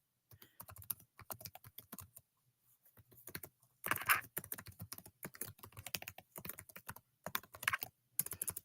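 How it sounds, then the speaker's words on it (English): Someone types on a laptop keyboard, picked up by the laptop's internal microphone. The key clicks come close and crisp in irregular bursts, with a couple of short pauses between runs. "some people really hate the sound of me typing because I'm using the internal mic for the laptop"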